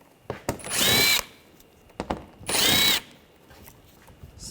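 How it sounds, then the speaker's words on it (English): A power tool fitted with an 8mm socket whirs twice in short, loud bursts, each lasting about a second, as it backs screws out of a panel on a 2009-2013 BMW 328i xDrive. Faint clicks and handling noises fall between the bursts. "Using a 8mm socket, we want to take these screws out."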